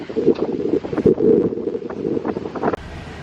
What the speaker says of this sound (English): Oh, it's getting a bit breezy.